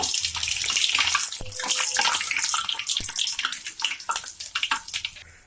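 Murukku dough sizzling in hot oil in a kadai, a busy hiss of crackling bubbles and spatters that stays loud, then thins into sparser pops toward the end.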